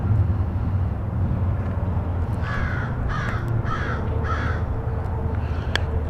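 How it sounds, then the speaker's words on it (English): A crow caws from the trees overhead in a run of four harsh calls, evenly spaced and fairly close, over a steady outdoor rumble with no talking. "Trees, crow up there screaming at us."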